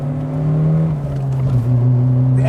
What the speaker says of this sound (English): The engine sounds pretty nice.